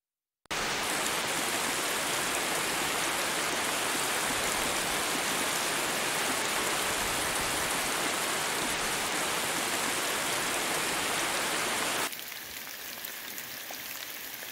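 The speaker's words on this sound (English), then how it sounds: "So it's now raining so hard that my portage trail turned into a creek." Heavy, steady rain pours down during a canoe trip in autumn woods, a dense continuous roar that suddenly drops to a softer hiss near the end.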